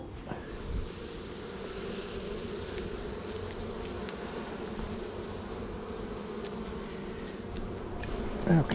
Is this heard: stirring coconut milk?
no